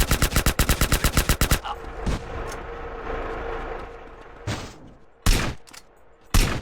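Gunfire in the video game GTA San Andreas: a fast, loud automatic burst of evenly spaced shots, then a hissing, rumbling lull broken by a few heavy single blasts near the end.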